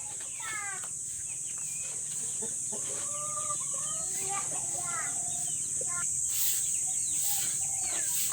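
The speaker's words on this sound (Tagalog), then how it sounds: "Ay, tandang." A rooster crows among a backyard flock of laying hens, Black Australorps and Rhode Island Reds, with repeated clucks and calls at moderate distance over a steady high insect drone, no talk in the clip.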